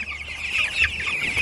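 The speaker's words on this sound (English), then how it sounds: "There's some happy baby birds." Young chicks crowded together in an indoor enclosure keep up a steady stream of close, bright peeping and soft clucking, with no one speaking.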